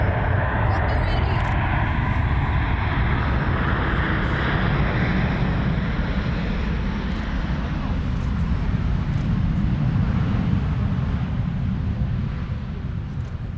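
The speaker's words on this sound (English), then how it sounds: "This is Saudi flight 215, by the way. Dreamliner coming in from Jeddah in the neon livery." A Saudi Boeing 787 Dreamliner from Jeddah lands at a wintry Amsterdam Schiphol Airport, a broad continuous jet roar filling the scene at close range, with people chatting faintly over it.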